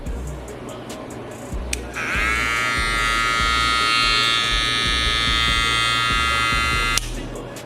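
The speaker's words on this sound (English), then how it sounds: "Same thing with the trimmer, sound test." A Babyliss Lo Pro FX limited edition trimmer clicks on and hums with a bright, steady electric whine for around five seconds before clicking off, recorded close with light background noise and clicks beforehand.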